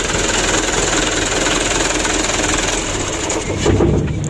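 A car engine runs at a steady, loud, close idle after being started with the starter, a continuous rumbling drone with a slight knocking texture and no voices over it.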